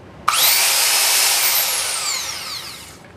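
A belt sander, a Shop Fox W1855 or a Makita 9031, starts with a sharp click and whines up to a loud, high, steady roar, then slowly winds down over about three seconds.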